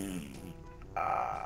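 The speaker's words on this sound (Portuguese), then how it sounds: "Isso é elemento peido, meu Deus!" A cartoonish fart sound effect plays in Minecraft: a short, buzzy, rasping blast in the second half, preceded by a brief voice-like sound.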